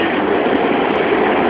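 A steady, loud rumbling roar of a light rail train passing close by, continuous and broadband with no breaks.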